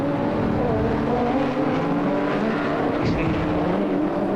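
1992 race cars at the Nissan Mobil 500 street race in Wellington roar past, a dense continuous engine roar with a brief passing swell, loud and close.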